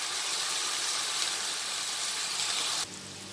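Potatoes frying in a pan while being stirred: a steady, dense sizzling hiss that holds evenly, then drops abruptly quieter near the end.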